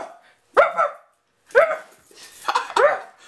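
A person imitates a dog barking excitedly, as if spotting a cat, with three loud voiced bark-like bursts separated by short pauses, close to the mic.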